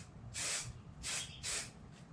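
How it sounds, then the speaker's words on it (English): Three short bursts of hissing spray adhesive from an aerosol can, each about half a second, with brief pauses between them, close and fairly quiet. "So it doesn't take much, just very light mist."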